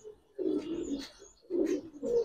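A female pigeon coos close by in two short bursts of low throaty rolling calls, separated by a quiet gap.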